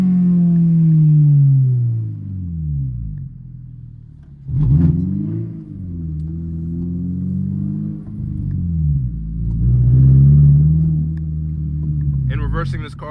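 A 2023 Toyota GR86 Premium engine rumbles and revs at low speed while pulling in to park, its note rising and falling steadily over about thirteen seconds, close and fairly loud.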